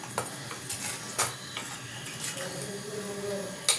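A dish with chopped coriander leaves stirred in a pan, giving several light scraping and clinking utensil strokes over a faint low sizzle, close and without speech.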